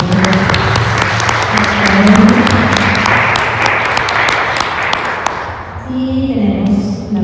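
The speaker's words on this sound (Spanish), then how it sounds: "Un aplauso, por favor" Audience applause at a book presentation, steady dense clapping from a room of listeners lasting several seconds, with a voice heard over the clapping near the end.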